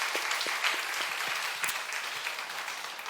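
A church congregation claps in encouragement during a Sunday service, a fairly quiet but continuous patter of many hands, steady for the whole stretch without any speech over it.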